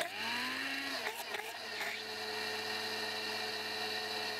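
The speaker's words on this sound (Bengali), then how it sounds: "আমি একটু ব্লেন্ড করে দেখাচ্ছি যেটা কতটা ঘন হয়েছে" A kitchen blender runs steadily while blending homemade mayonnaise, a continuous whirring motor drone with a few brief shifts in pitch near the start.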